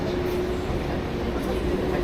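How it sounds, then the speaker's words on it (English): A train passes as a steady, continuous rumble with a faint sustained tone running through it, heard from nearby throughout. "You can hear the train."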